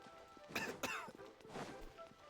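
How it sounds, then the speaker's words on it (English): A character's coughing voice line in the video game Genshin Impact: a couple of quick, close coughs, then a softer follow-up cough, with light background sound and no other talk. "Stop coughing, man!"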